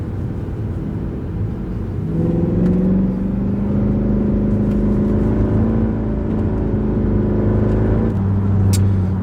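A Mercedes C63 engine held steady around 3000 RPM, its deep droning rev rising at the start and sustained loudly and close for several seconds with a steady rumbling whir.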